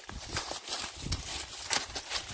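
A horse covered in burrs walks along a field path near a cornfield. Soft hoof clops are scattered through steady background noise, with faint voices now and then.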